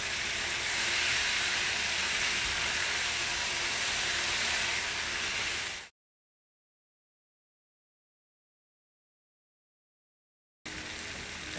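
Brussels sprouts coated in apricot jam cooking in a pan give a steady, loud steamy hiss and sizzle for about six seconds, then cut to silence before the hiss briefly resumes.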